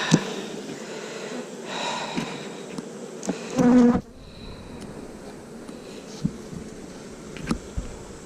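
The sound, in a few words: honeybees buzzing on a hive frame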